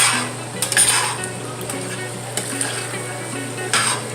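Beef and chayote stirring in a pan as a Filipino sauté cooks, with utensil scrapes and clinks against the pan over a steady low hum, a few sharper knocks near the start and end.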